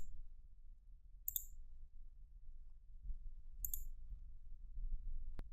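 Two sharp, quiet mouse clicks ring out a few seconds apart while selecting items in SolidWorks, with a final tiny tick at the end over a faint low background hum.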